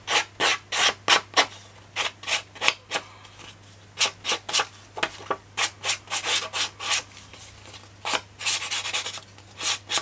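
Rhythmic rasping strokes of a hand file worked along a paper edge, crafting an album, in bursts of quick back-and-forth scrapes with short pauses between, close and fairly loud over a steady low hum.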